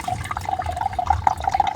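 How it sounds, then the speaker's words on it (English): Liquid bleach drips into a transparent bucket in quick, close, steady drops that form a continuous patter with a faint liquid ring. "the liquid is still dripping"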